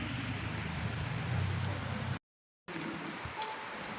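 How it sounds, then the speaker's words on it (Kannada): Steady rain hisses down on a surface, a dense even patter that cuts out briefly and then returns slightly thinner. "ಮಳೆ ಬರ್ತಾ ಇದೆ"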